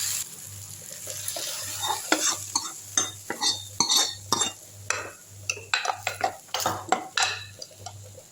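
A spoon scoops amaranth greens tamarind kadayal into a cooking pan, giving repeated close scrapes and metallic clinks in a steady rhythm, with faint sizzling underneath and no speech.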